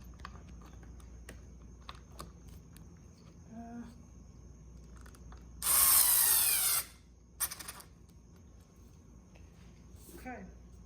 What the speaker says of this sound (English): Now I'm going to tighten that 1 screw